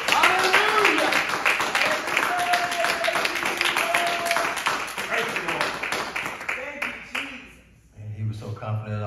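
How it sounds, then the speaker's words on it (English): A church congregation claps hands in praise during a Sunday service, a dense rhythmic clapping under shouted and sung voices, fading briefly near the end before voices and an organ-like tone return. "Let's give the Lord a hand clap of praise."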